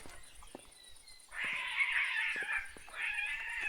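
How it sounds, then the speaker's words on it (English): Cats fighting in the video game Kingdom Come: Deliverance II, drawn-out yowling and screeching caterwauls in two long bursts after a quieter start, fairly faint and without speech. "Sounds like a cat's getting in a fight."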